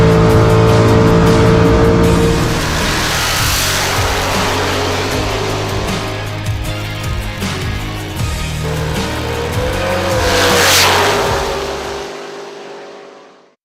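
Drag racing cars roar at a bracket race, a loud sustained engine blast with revving and a swell near the end before the sound fades out. No one speaks.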